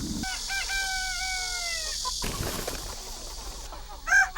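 On a chicken farm in Sejong City, South Korea, a rooster lets out one long crow, then a busy background of hens clucking and scratching continues, with a sharper squawk near the end.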